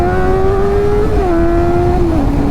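A Kawasaki ZX-4R's 399cc inline-four engine holds a loud, high, steady whine under throttle, close and continuous with wind rush, its pitch dipping slightly twice as the revs shift.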